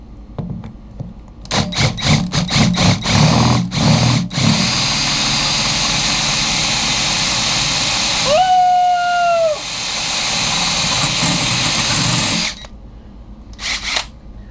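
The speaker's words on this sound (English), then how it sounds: "So set the drill in the pilot hole." A power drill whirs steadily into a solid plastic countertop after a few short bursts, grinding for several seconds before stopping.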